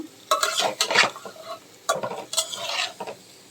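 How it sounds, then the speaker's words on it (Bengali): Tender young drumstick (sajna) being stirred and turned in a pan with a utensil, giving intermittent scraping and clinking bursts over a soft sizzle, close and moderately loud, with no talking. "ভালো করে নেড়ে কষায়ে তারপরে ঢেকে দিব দু তিন মিনিট"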